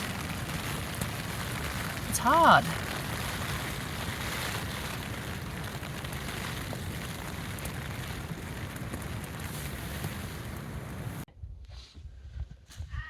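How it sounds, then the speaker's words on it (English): Rain and strong wind batter a bikepacking tent overnight near ruins in the Flinders Ranges, a steady rushing hiss with flapping fabric; a brief spoken remark comes through partway, and the sound cuts off near the end. "Rain keeps coming, and the tent is struggling with the wind."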